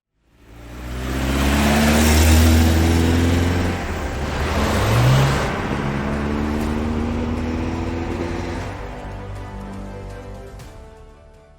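A GTA car drives at the Balocco proving ground, its engine rising from quiet to a loud, sustained rev and shifting pitch as it accelerates, then holding a steady drone before easing off.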